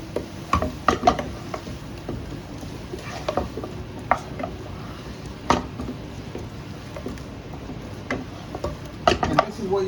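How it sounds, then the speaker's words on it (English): Chicken jalfrezi with onions and peppers is stirred in a pan, a utensil scraping and knocking against the metal in irregular strokes over a soft sizzle, close and moderately loud, with brief talk now and then. "And stir."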